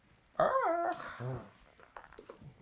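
A dog lets out a single close whining yelp that slides in pitch, followed by softer grumbling whimpers.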